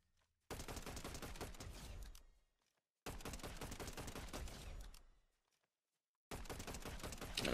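Bursts of rapid automatic gunfire from a Fortnite aim-training session, three long sustained volleys separated by short silences, loud and close with no talking.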